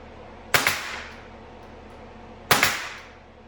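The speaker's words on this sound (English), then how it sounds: "I just temporarily nailed that on there" Two sharp, loud hammer strikes driving a nail through a board into a workbench top, spaced about two seconds apart, each ringing briefly before fading into a quiet room.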